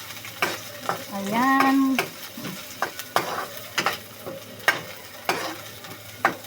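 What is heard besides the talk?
sautéing garlic and onion in a pan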